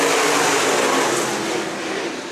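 Stock cars and outlaw mini-mods roar together off turn four of a dirt oval speedway at the green flag, a dense, loud wall of engine noise that holds steady and eases slightly near the end.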